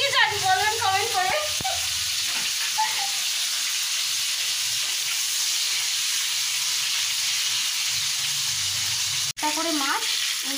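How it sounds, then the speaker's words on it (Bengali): Prawns fry one by one in hot oil, a loud, steady, close sizzle running throughout, with a voice over it at the start and again near the end. "তুমি একটা একটা করে এরকমভাবে চিংড়ি মাছ ভেজে নেবো।"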